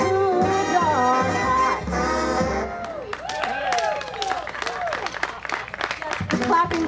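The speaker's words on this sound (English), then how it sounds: "The clapping gives me a breeze." An audience claps at a stage performance during the 2019 New Garden Airshow, a burst of applause rising after a sung phrase and continuing in a lively patter under a performer's voice.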